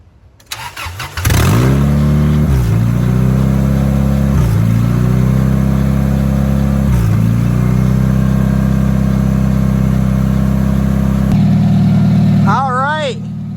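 A Honda Accord engine cranks and fires, revs in a few loud surges, then settles into a steady, slightly high idle close by, with a voice briefly heard near the end.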